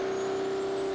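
A heavy tractor-pulling engine at a pulling competition holds a loud, steady high rev, droning continuously without letting up.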